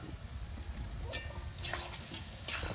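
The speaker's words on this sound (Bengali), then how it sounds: "এই যে ভাজা সবজিগুলো দিয়ে দিচ্ছি" Fried vegetables tossed and stirred into a spice masala with ginger in a pan, old-style Bengali home cooking: a steady close sizzle with a few scraping stirs and spoon knocks.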